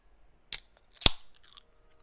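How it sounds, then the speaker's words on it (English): A beer can is cracked open nearby: a sharp click, then a louder snap of the tab followed by a brief soft fizz, in an otherwise quiet room. "That's the sound of me cracking a beer"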